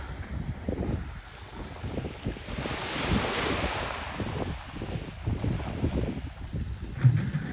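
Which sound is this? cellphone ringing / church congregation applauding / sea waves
sea waves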